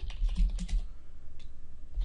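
Fast typing on a computer keyboard during Unity 3D scripting work: a quick run of dense, close key clatter, then a pause and a few more keystrokes near the end.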